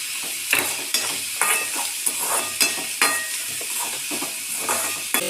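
Onions, green chilli and ginger frying in a pan with salt added, giving a steady close sizzle broken by repeated sharp scrapes and clinks of a spoon stirring against the pan, with no voices.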